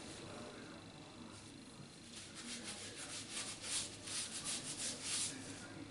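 Hands rub hair product into the hair at the crown of the head, a soft continuous scrubbing friction that swells into brisk, close bursts toward the end.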